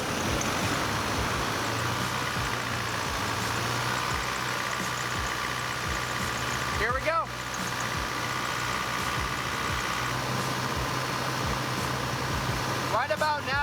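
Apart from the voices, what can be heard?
Chevrolet Colorado engine held at 2,000 RPM during carbon cleaning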